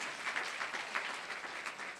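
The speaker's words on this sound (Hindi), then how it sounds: "जोरदार ताली बजाएंगे" A church congregation applauds during a sermon, a brief burst of steady, moderately loud clapping from many hands.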